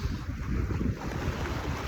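Ocean waves near the shore at Tofino, a dense rushing wash of surf mixed with heavy wind buffeting the microphone, loud and continuous for a couple of seconds.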